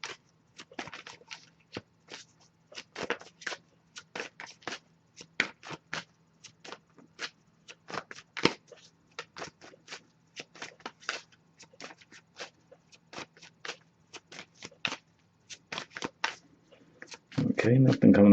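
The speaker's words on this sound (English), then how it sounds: "I'll give it a few more shuffles" Tarot cards being shuffled by hand in a quiet room, a long series of quick papery riffles and taps in irregular bursts, close and clear, ending with a brief louder rustle.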